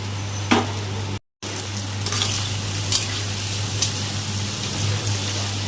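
Paneer frying in a pan, a continuous dense sizzle and crackle with occasional stirring clinks and a low steady hum beneath, briefly cutting out once before resuming.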